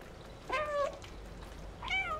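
A cat meows twice in the video game Stray, two close, clear meows spaced over a second apart against a low, steady ambient background with no talk.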